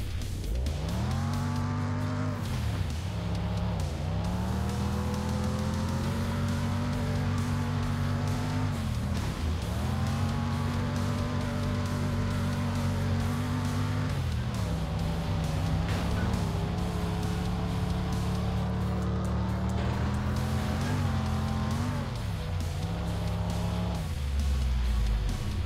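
Race cars in a mobile racing game, where drivers can race normally or smash into each other, drone with steady engine tones that rise and fall continuously and loudly throughout, with no talking.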